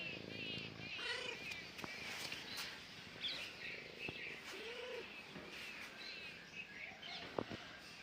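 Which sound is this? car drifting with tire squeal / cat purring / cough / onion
cat purring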